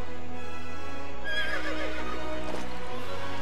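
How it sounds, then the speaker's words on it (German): Horse in the Lego Worlds video game giving a single clear neigh, close and loud, with faint hoof clip-clops behind it and a steady low game background, no speech. "Oh, da ist ein Pferd, verdammt, da ist ein Pferd."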